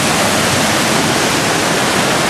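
A powerful waterfall at Yabakei roars in a loud, steady, unbroken rush of water, close by, with no voices.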